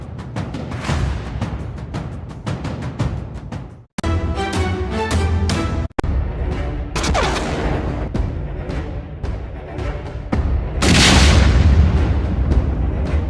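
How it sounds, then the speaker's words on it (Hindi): Heavy booming explosions from Russian military strikes hit in repeated bursts, some sharp and some rolling, with a big loud fireball blast near the end and no talking. "इस वीडियो में आपको आग के गोले वाला धमाका दिखेगा"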